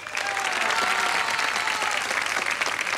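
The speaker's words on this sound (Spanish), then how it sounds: "Aplausos para este muchachito." An audience at a tribute show bursts into sustained, even applause, a dense wash of clapping holding steady throughout.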